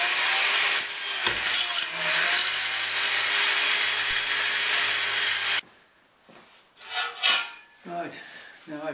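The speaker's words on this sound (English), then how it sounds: "to drill through the foot, but this time the hole's going to go straight through" A power drill bores through the aluminium extrusion foot of a vinyl cutter plotter stand, a loud continuous grinding rasp held for several seconds that stops abruptly, followed by quieter handling clatter.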